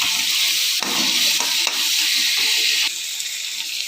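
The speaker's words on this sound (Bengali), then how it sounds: "এই যে পেঁয়াজ আর টমেটো আমি একসাথে তুলে দিয়েছি। এবার এইগুলোকে একটু নেড়ে ছেড়ে দেবো।" Grated onion and tomato hiss and sizzle loudly in hot oil in a wok, the steady frying broken by a few stirring scrapes, close and without voices.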